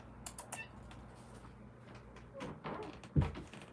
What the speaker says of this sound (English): let me go let my cat in right quick, cause my cat she gonna try to get in